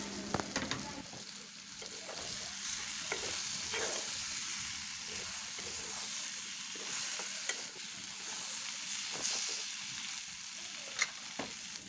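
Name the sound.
puti fish frying in oil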